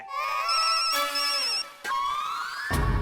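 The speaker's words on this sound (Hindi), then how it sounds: "चाचा जी आपका फोन बज रहा है।" A phone ringtone plays loudly and close, a bright melodic tone sequence that repeats, with a brief voice-like break in the middle.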